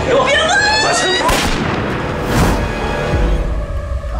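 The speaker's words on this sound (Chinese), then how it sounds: "哪来的枪声？" Gunfire from a distant room in a police drama scene, heard as sharp bursts and booming reports amid loud, busy background noise and voices.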